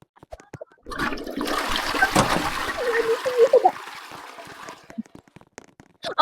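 A video game toilet flushes loudly with a long rushing, splashing water burst, gurgling and trickling as it drains, with brief clicks before and after.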